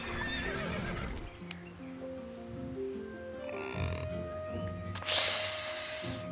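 A game horse neighs in a long whinny alongside hoof clip-clops and snorts, followed by a sharp burst of noise near the end.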